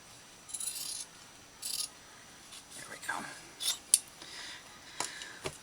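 Scissors snip through fabric scraps in short bursts of cutting and rustling, close and fairly quiet, with brief pauses between strokes.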